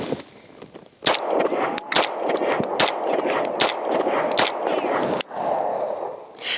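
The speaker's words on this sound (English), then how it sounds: "this is a 5-round group at 5 yards with the Staccato XC" Staccato XC pistol shots are fired at a target 5 yards away, with sharp, loud reports spaced under a second apart and a noisy indoor range hum between them.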